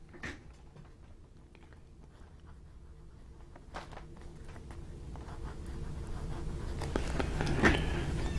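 Faint scratching of a Jinhao 992 fountain pen moving across Tomoe River paper in short strokes, quiet and close, with soft rustling growing slightly louder toward the end.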